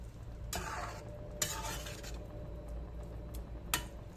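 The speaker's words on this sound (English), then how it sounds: "Mix it all up, and then there you go, your Bolognese sauce" A spoon stirs a chunky homemade Bolognese sauce in a pot, giving a few quick scraping swishes and clinks against the metal over a low background hum, close and moderately quiet, with no talking.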